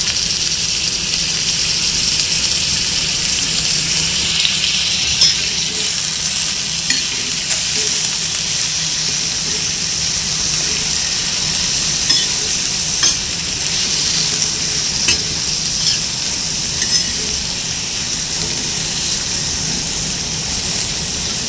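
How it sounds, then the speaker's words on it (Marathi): Green chillies roasting in a pan for chutney, a loud steady frying hiss running throughout with occasional clicks and scrapes as they are stirred, close up and free of speech. "मिरची पण टाकते। त्याला चांगलं भाजून घेते थोडा।"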